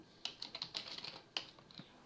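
Fast typing on a computer keyboard: quick, irregular bursts of light clicks close by over about two seconds, with no talking.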